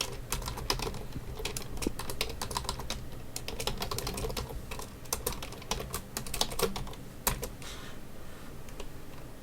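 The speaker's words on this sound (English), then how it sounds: "I'm typing to her in the chat." Rapid, uneven tapping on a computer keyboard during a chat, with bursts of keystrokes and short pauses, close and fairly quiet, alone without talk.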